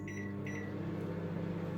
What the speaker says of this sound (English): then it goes in the microwave